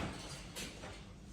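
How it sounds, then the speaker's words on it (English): An automatic sliding door in an abandoned hospital opens with a brief, faint mechanical whoosh, heard alone in a quiet space. "Well, the automatic door works."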